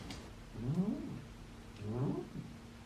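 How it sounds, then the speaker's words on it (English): A sleeping cat makes two low, throaty grumbling noises a second or so apart, close by and fairly soft, with no talking. "My cat's like sleeping, making these weird noises."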